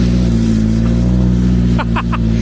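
Skoda Fabia car with a freshly overhauled engine drifting, loud steady engine drone close by with a brief burst of three pulsing revs near the end.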